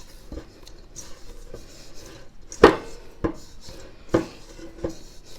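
Yeast dough for pişi, a Turkish fried bread made with mashed potato, is pressed and folded by hand to knock out the gas. The soft kneading is broken by several sharp thumps and slaps at uneven intervals, close by, with no talking.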